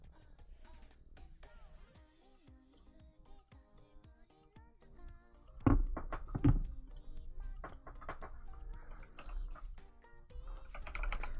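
Computer keyboard keys clatter in quick irregular bursts, fairly close and moderately loud, with a few heavier thumps and key presses over quiet game music in the background.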